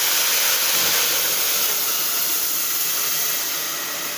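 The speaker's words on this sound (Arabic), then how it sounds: "اروح اضربهم في الخلاط وارجع لكم تاني" A kitchen blender whirs loudly and steadily while blending tomatoes for a homemade sauce. The dense, even roar holds for about four seconds with no talking and eases off slightly at the end.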